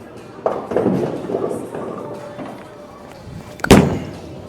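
A Radical Outer Limits bowling ball rolls down the lane with a low, steady rumble, then strikes the pins with a loud, sharp crash near the end.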